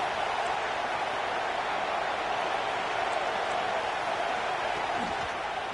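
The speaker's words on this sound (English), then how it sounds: "this crowd is turning it up a notch" Stadium crowd at a college football game involving Georgia Tech, a dense continuous roar of cheering that stays steady and loud throughout, with no distinct voices.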